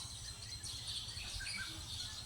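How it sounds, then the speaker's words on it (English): Kingfisher calls ring out at a lake shoreline, thin high chirps and trills drifting over a soft steady outdoor hum, faint and fairly distant, with no one talking. "sounds of the kingfisher birds"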